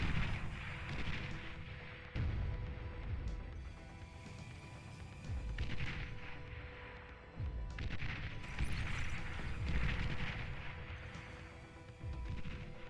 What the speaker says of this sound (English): On Ballista, fire.